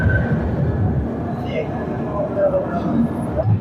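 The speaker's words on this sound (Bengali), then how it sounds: "শুধুমাত্র 2 মিনিট দাঁড়িয়ে কিন্তু বর্ধমান জংশন থেকে আমাদের ট্রেন ছেড়ে দিল।" The Kaziranga Express pulls out of Bardhaman Junction with a constant low rumble and rolling rail noise heard from inside the carriage. A person talks over it the whole time.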